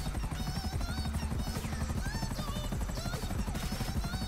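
A helicopter in GTA Online, its rapid rotor thump loud and steady throughout, with small higher whistling and chirping game sounds layered on top and no talking.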